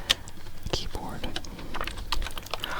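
A standard black-backed computer keyboard clicks and clacks in quick irregular bursts of close typing, with soft speech faintly underneath.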